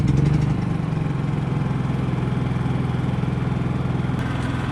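Honda EU3000is inverter generator engine running after storage, a steady close mechanical drone with a fast regular pulse, loud and even throughout.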